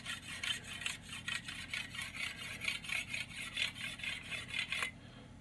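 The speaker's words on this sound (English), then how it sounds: "basically working this little stone like an eraser, just to pick off these fine burrs" A small sharpening stone is rubbed like an eraser along a tool's edge to pick off fine burrs, making quick, even back-and-forth scraping strokes, about twenty, close and clear, then stopping abruptly.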